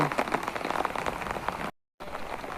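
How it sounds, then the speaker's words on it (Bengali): Steady evening rain in Dhaka pattering densely on a hard surface, a broadband hiss with scattered drop hits, briefly cutting out before resuming. "ঢাকার আকাশে বৃষ্টি হচ্ছে"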